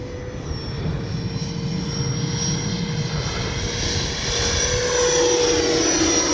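An FMS Futura 64mm electric ducted-fan RC jet on 6S power gives a continuous high whine and whoosh as it flies, with a sustained tone that grows slightly louder toward the end.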